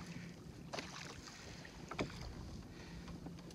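Solo kayak paddling on Pitt Lake, a few soft paddle splashes and water swishes over light wind noise, quiet and close.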